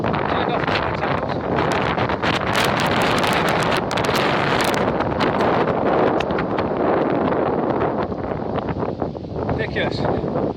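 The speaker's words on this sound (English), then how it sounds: "Huge headwind, massive headwind." Strong headwind buffeting the microphone while cycling along a quiet B road, a loud continuous roaring rumble with gusty crackles throughout and no pause.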